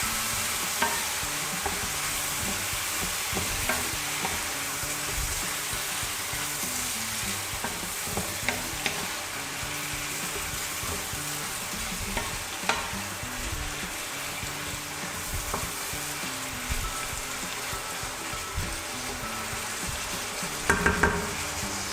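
Fried rice with shrimp, peas and chopped fresh tomato stirred in a sizzling pan, a steady frying hiss running throughout with scraping and clinking spoon strokes in irregular rhythm, close and moderately loud, no voices.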